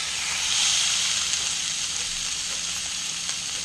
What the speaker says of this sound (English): Once you've got your pan really hot, we're now going to sear off the venison.